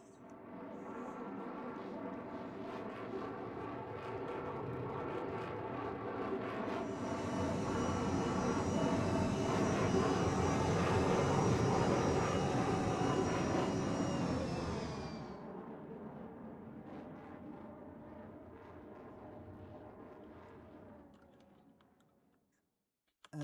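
An Avro Vulcan bomber flies past at an air show with a loud, broad jet roar that swells over several seconds, gains a bright howling edge as it passes, then fades away into the distance.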